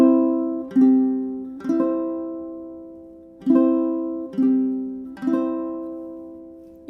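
A ukulele played on open strings picks out the Frère Jacques melody in the version with a rest on the fourth beat, with clear plucked notes ringing and decaying in an uneven rhythm, close and alone.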